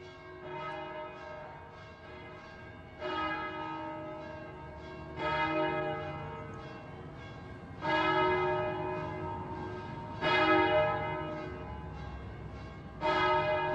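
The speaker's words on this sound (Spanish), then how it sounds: "En este vital centro palmesano resuenan las campanas marcando los días." Church bells toll in central Palma de Mallorca with slow, regular, resonant strikes about every two and a half seconds. Each ringing tone sustains into the next, heard from a moderate distance with no talking.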